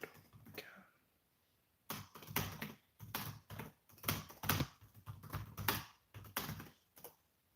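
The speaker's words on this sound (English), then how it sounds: "I'll actually type it in the chat." Typing on a computer keyboard, close and fairly quiet, irregular bursts of key clicks after a short pause, with a brief voice at the start.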